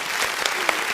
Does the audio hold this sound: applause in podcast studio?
yes